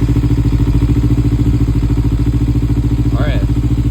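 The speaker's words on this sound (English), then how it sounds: "Bring the bike out, and then we'll start her up." A Kawasaki Ninja 300 motorcycle engine running with a loud, even, rapid thrum close by, a brief voice breaking in near the end.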